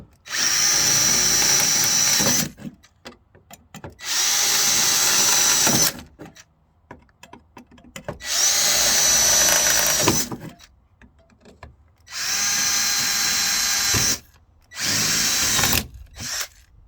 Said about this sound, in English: I'm going to go ahead and drill all my holes.